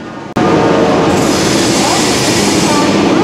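A Jan Shatabdi express train at a station: after a brief cut, loud continuous rumbling and rolling of rail cars and wheels sounds close by, with faint squealing tones riding over the steady roar.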